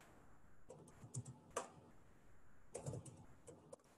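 Typing on a computer keyboard while writing a text comment in MATLAB: two brief clusters of light, quick key clicks separated by a pause, close but faint against a quiet room.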